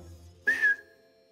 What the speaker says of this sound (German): Beim ersten Fall muss ein Mann aus dieser Gruppe mittlerweile immer kurz pfeifen, wenn er ein Wort mit dem Buchstaben Ü hört.